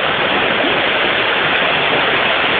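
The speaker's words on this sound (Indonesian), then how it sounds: "Ini adalah air terjun yang berada di kedalaman" Waterfall about eight meters high, more than a kilometer deep inside a cave, roaring as a loud, steady, unbroken rush of falling water, close and filling the space with no talk over it.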